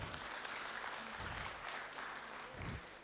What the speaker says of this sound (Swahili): Si tuwapigie makofi.